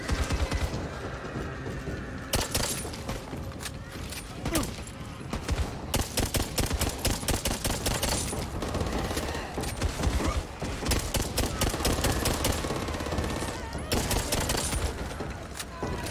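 Rapid gunfire from the video game Back 4 Blood, dense bursts and repeated shots running almost continuously, with occasional brief pauses and voices talking at times.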